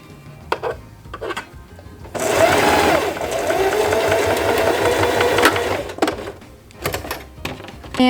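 Home sewing machine top stitching a belt bag, a steady rapid mechanical run of about four seconds between scattered handling clicks and taps, close and clear.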